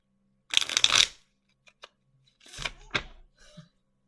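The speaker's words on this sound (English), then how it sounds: "I gotta do like more shuffles now." Cards riffle in a quick rustling burst, followed after a pause by another softer riffle and a few light clicks.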